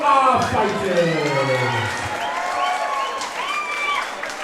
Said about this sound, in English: we please have a big round of applause for both of our fighters.